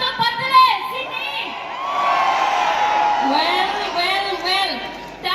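A large concert crowd in Sydney cheers, whoops and shouts loudly and continuously, with high-pitched yells rising above a dense roar of many voices.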